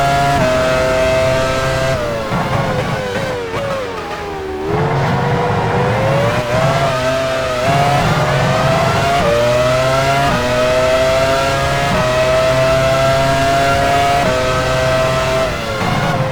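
Formula 1 car engines roar in F1 Challenge 99-02 during the 2001 Canadian Grand Prix at Circuit Gilles Villeneuve in the wet, a loud continuous whine that rises and falls with gear changes, several cars overlapping throughout, with no talk.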